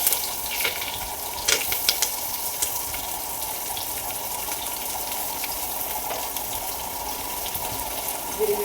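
Chopped onion hits hot oil with curry leaves and mustard seeds in an Indian home kitchen while dal khichdi is cooked, giving a steady hissing sizzle with faint crackles throughout.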